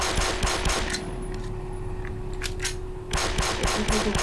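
Rapid gunfire in the video game Black Mesa, bursts of sharp, fast repeated shots that open loudly, thin out into scattered cracks, then return as a dense burst, with no talking.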